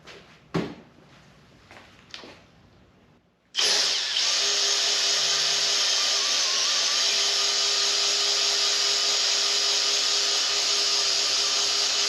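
A cordless power drill runs steadily and loudly at close range during assembly of a '57 Bel Air restomod's engine, starting abruptly after a few sharp clicks and knocks and holding an even whine to the end.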